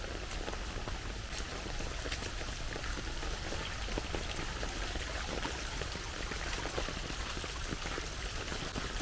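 Rain falls steadily while fast, swollen stream water rushes out along Gulpocheon, a continuous close broadband wash with dense patter and no voices.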